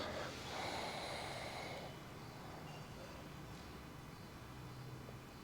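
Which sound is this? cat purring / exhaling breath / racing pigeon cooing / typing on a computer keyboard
exhaling breath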